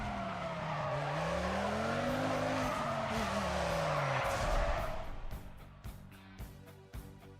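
A Nissan R35 drifts in a racing video game, the tires squealing loudly in a long wavering screech over a rising and falling engine note, then fading into short, clipped sounds.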